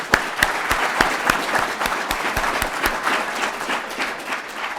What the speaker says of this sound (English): And please join me in giving a huge round of applause to Genevieve, Cecilia,